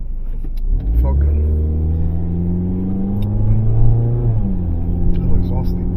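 A Honda car engine idles and revs up and down close by in a parking lot, with steady low rumble and rising harmonic tones through the clip.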